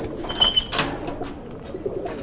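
Pigeons in a flying loft give soft, low intermittent coos amid faint rustling and a brief flutter, heard close but quietly.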